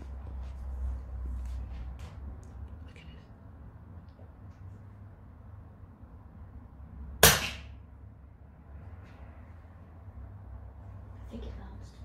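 An FX Wildcat air rifle fired at a target in a back garden gives one crisp, sharp snap midway with a brief decaying tail, set against quiet outdoor background and faint voices.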